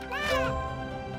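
In the puzzle game Hidden Through Time 2, a cat gives one clear, close meow that rises and then falls. A faint voice lingers under the end of the call.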